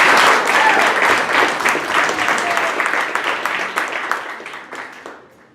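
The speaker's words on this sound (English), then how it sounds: "Give her a round of applause." An audience claps and applauds a volunteer at a variety show, a steady burst of applause that fades out toward the end.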